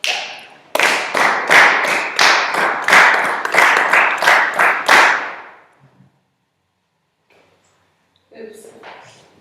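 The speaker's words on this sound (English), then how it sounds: "I want us to clap it again, okay?" A group claps a rhythm together, about a dozen loud, evenly spaced claps in sync, followed by a short pause and then brief talking.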